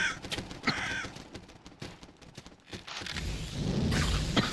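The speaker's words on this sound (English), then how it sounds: "Oh yes, there are a lot of crows." Crows caw in the video game Salt and Sanctuary, several harsh calls in a row over game effects and thuds, moderately loud, with no talking.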